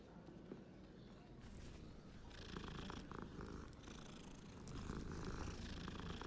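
Cat purring inside the Hogwarts Legacy video game, a steady low rumble that keeps going under game ambience and music and grows slightly louder toward the end.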